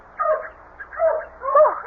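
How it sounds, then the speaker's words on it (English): Dogs bark and yip in short bursts in a radio drama, three close, loud clusters with whimpering edges separated by brief gaps. "I'll get the dogs quiet."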